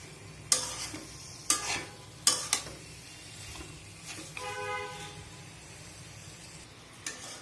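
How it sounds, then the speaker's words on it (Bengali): Potatoes, shrimp and green chillies stirred in a frying pan: a soft steady sizzle broken by several sharp scraping clacks of a spatula against the pan, close and fairly quiet, with no talk. "আবার আমি একটু নাড়াচাড়া করে নিচ্ছি আর একটু ভাজা ভাজা করে নিব সবকিছু একবারে।"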